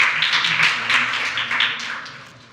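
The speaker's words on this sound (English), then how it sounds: "Let's have a round of applause for Rafael Stanzani from Connect" An audience at a startup challenge event applauds a presenter, a steady burst of many hands clapping at moderate loudness that gradually tapers off.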